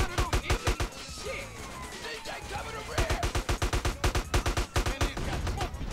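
Rapid automatic gunfire in a Grand Theft Auto San Andreas shootout during a chase, loud close bursts in two volleys with a brief lull between, under engine noise and some talk.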